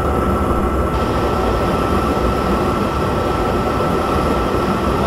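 A train in a passenger-service train simulator game pulls away with a steady, loud, dense rumble of rolling stock and machinery, continuous and unbroken throughout with no talk.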